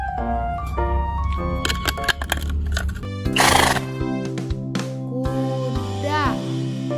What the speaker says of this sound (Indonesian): Yang ini adalah mainan kuda, teman-teman.